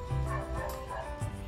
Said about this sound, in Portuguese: Ignorem se vocês ouvirem cachorro latindo